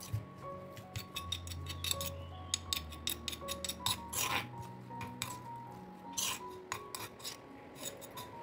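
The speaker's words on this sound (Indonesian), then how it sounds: "Dan ini aku nguleknya juga ulek pakai tangan ya teman-teman." Chili, shallots and garlic are ground by hand with a mortar and pestle, giving irregular scraping, rasping strokes and occasional hard clinks, close and fairly quiet.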